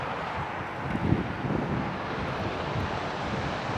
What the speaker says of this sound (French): C'est un peu venteux, mais ça va être bien parfait.